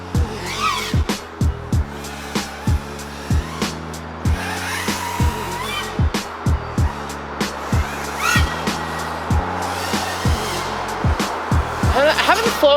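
An FPV drone fitted with prototype HQProps 3D propellers flies at high throttle. Its motors rise and fall in a rhythmic, pulsing whine that comes in repeated bursts, and someone talks over the flight.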